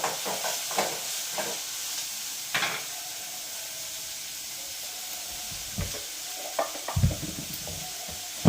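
Chopped onion, ginger and garlic sautéing in a pan, with a soft steady sizzle and hiss broken by several scraping stirs of a spoon, close and fairly quiet, with no voices.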